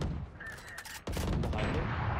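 Gunfire in the tactical shooter Valorant: a sustained burst of close, loud shots fills the clip, broken by a brief gap partway through, with no talk over it.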